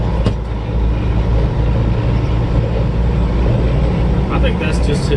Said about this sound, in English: I think that's just his exhaust.